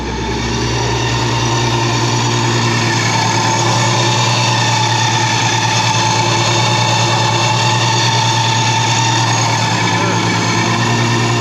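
A supercharged Nissan 350Z engine runs loud and steady at a constant idle with a deep rumbling drone and a high whine on top, very close and continuous throughout.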